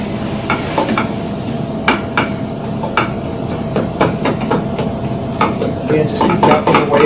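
A spoon or spatula chops and stirs turkey chili in a pot over medium-high heat, giving repeated sharp knocks against the pot at an irregular rhythm over a steady sizzle.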